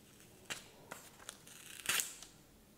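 Paper packaging of a Google Pixel Tablet being opened by hand, with a few sharp tearing and crinkling rips and a louder burst near the end, close up and without talk.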